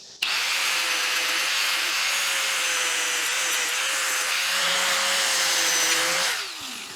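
Grinder taking burrs off the underside of a Murray push mower blade, a loud steady abrasive grinding with a constant motor whine from start to finish, then spinning down.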